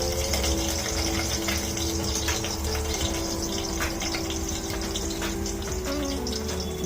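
Garlic, curry leaves and dried chili hit hot oil for a Maharashtrian white peas usal, giving a steady, dense crackling sizzle close by that holds level throughout with no talking.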